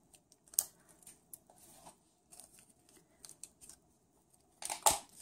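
Scissors cutting a wedge shape out of paper for a butterfly craft embellishment, giving several quiet, close snips and crisp paper rustles spread out with pauses, ending with a louder cut.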